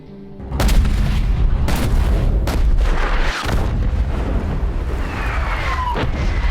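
Long-range artillery fire in an action war film about soldiers fighting ISIS: several loud, deep booming shots land in succession over a sustained roaring rumble, with a whistling streak near the end.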